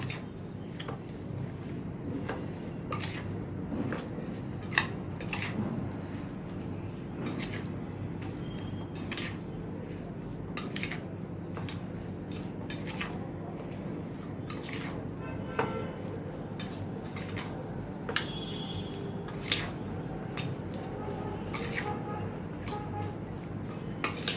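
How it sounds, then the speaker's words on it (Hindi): Green chilli pickle is mixed in a bowl, a spoon clinking and tapping against the sides in soft, irregular strokes over a quiet kitchen background. "और इनको अच्छी तरह से अभी मैं मिक्स करती हूँ।"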